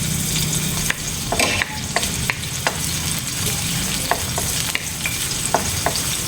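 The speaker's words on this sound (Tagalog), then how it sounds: "Lagay na natin. Isabay na din natin ang ating sibuyas." Onions sizzle steadily in a hot pan while a utensil stirs them, giving scattered scraping clicks and knocks over a constant frying hiss, close by and with no talk.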